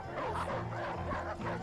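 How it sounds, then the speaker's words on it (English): A dog barks and yips in short, excited bursts over a busy background of music or dialogue from a Titanic animated film, the barks mid-loud and close, repeating quickly. "The dog looks funny."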